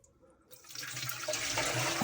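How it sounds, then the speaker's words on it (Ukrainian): Water pours from a tap into an autoclave for canning pike in oil, starting after a brief quiet moment and building into a steady, close rushing stream. "Заливаємо водичку."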